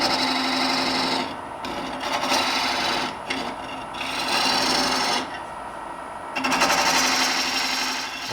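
A bullnose scraper cuts into spinning wood on a lathe, hollowing a dish shape: a steady, close rasping scrape that swells and fades in three long passes with brief pauses between them.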